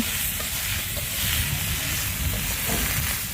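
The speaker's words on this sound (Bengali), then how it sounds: "এখন হচ্ছে ভালো করে নাড়াচাড়া দিব" Curry with turmeric is stirred in a hot pan, with a steady sizzle and frying hiss and soft scraping of the spoon throughout, close and continuous, with no talk.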